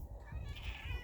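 A half-Siamese house cat gives a single drawn-out meow close by, loud and plaintive, with no talking over it.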